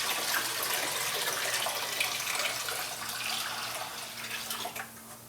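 Several gallons of water pour steadily into a container for a rust electrolysis bath, a continuous close rushing splash that eases slightly near the end, with no talk.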